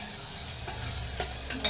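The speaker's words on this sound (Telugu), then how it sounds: "కొంచెం ఎర్రగా అయ్యిందాక వేపాలి" Mutton curry masala frying in oil in a pan, a steady close sizzle broken by a few brief stirring scrapes, with no voices.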